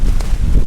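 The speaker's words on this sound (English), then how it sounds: "as this gust hits me" A strong hurricane gust roars across an exposed Florida beach at Lantana, buffeting the microphone with a loud, rumbling wind rush.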